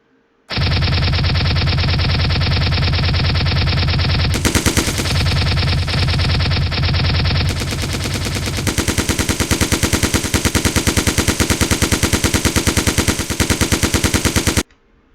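Sustained rapid automatic gunfire from an Unreal third-person shooter game, loud and continuous with a metallic, echoing distorted character, briefly shifting tone midway before resuming steady bursts until an abrupt stop.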